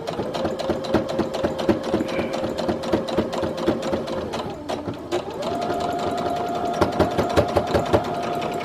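A sewing machine stitching through five layers of bra fabric runs in rapid, steady bursts up close, with a brief pause and change of pace partway through before the whirring stitching resumes.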